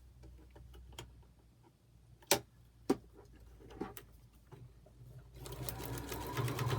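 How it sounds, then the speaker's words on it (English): A sewing machine stitching tiny quilt pieces, beginning with scattered clicks and taps before the motor builds into a steady close whirring run. "I'm going to sew on that 5 line"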